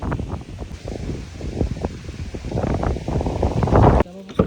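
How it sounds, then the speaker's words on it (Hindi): Cold wind gusts across a microphone in the Himalayan hills, a loud, continuous rumbling buffet with rustling bursts that cuts off abruptly near the end. "हवा चल पड़ी ठंडी ठंडी।"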